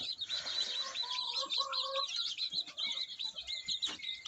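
Backyard hens around a rabbit hutch, with soft repeated clucking and bird chirps running steadily through the clip, fairly close and alone with no talk.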